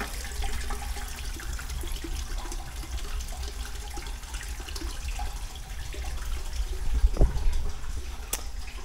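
Water poured into a rusty Honda CBR125 motorcycle fuel tank to rinse out leftover rust and dirt, a steady broadband splashing and sloshing that runs continuously and fairly close, with no talking.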